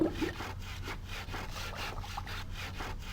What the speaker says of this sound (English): He seems to be sawing off one of the body parts.